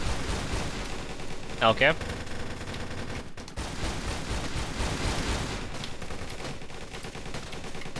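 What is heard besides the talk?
gunfire shooting at the boss, Alpha 12 weapon, Darkest Days video game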